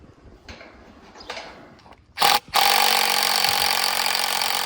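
A power drill bores through wood with a long drill bit to make a hinge hole for a farm gate on a rural New Mexico homestead. Light scraping comes first, then a short burst, a brief pause, and a loud sustained whir close by.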